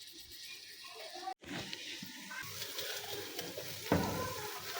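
Onions softening in oil in a pan as a base for spinach, a quiet steady sizzle with soft stirring scrapes and a brief dropout partway, close by.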